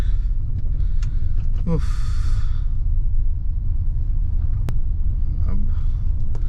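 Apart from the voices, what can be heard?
car driving on a hilly mountain road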